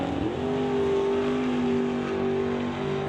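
Drag racing cars, including a Plymouth, launch at a non-electronic series event. A loud sustained engine roar rises in pitch and holds steady as the cars accelerate away, with no talk.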